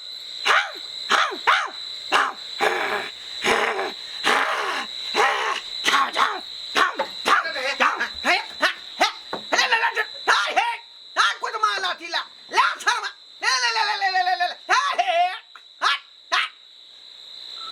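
A man imitates a dog, letting out a long run of sharp, loud barks and yelps at close range, with squealing whines in between and speech mixed in.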